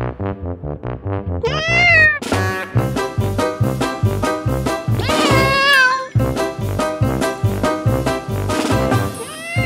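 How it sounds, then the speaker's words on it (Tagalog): Cats in a store meow over and over, close and loud, a rapid run of overlapping calls that rise and fall with no pauses, and a faint jingle now and then. "Marami akong pusa."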